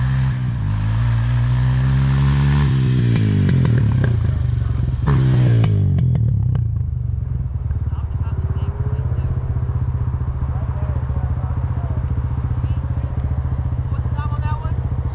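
Honda TRX250X ATV launching on a timed run, engine note climbing sharply through gear changes with rising whines, then settling into a rough, clattering drone as it carries on, voices shouting over the start.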